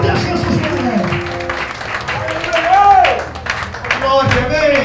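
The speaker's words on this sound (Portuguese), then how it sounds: "vamos receber o nosso pastor com as palmas bem alegres para Jesus" A church congregation claps joyfully to welcome their pastor, producing a dense, steady patter of applause mixed with voices and singing.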